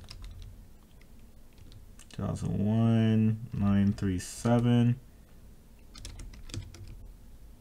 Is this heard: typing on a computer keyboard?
yes